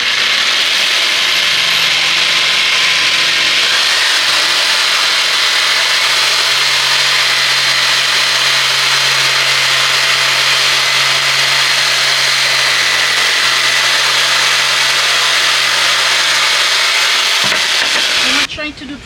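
Power saw cutting wood, a steady loud whining buzz that holds evenly for about seventeen seconds before cutting off abruptly.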